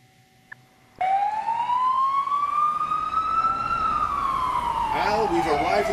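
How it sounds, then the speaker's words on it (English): Emergency vehicle siren at a car crash scene on Long Island, a loud wail that rises and then falls, close by, with further noise near the end. "Al, we've arrived at the crash scene here on Long Island, just ahead of the ambulances"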